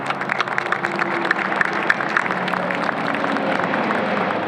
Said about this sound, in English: I want to give them all a round of applause